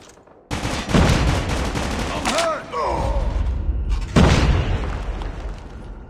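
Video game Search and Destroy match: a dense, loud burst of gunfire and booming blasts, likely a frag grenade explosion, with a brief lull and then another heavy blast and continued firing.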